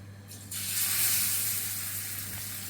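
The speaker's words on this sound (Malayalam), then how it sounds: "നമുക്ക് മീൻ വറക്കാം. സുൽത്താൻ ഇബ്രാഹിമിനെ വറക്കാം." Sultan Ibrahim fish hits hot coconut oil and erupts into a loud, bright sizzle that settles into a steady frying hiss.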